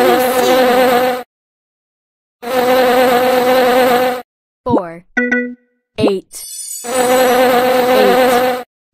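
Cartoon bee sound effect: three loud, sustained buzzing bursts separated by silence, with short squeaky tonal cartoon noises in between.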